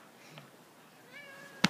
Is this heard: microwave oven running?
no